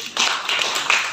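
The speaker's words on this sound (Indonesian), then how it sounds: "Kasih tepuk tangan." Classroom of students claps briefly after a teacher's prompt, a short burst of scattered hand claps, fairly close and uneven.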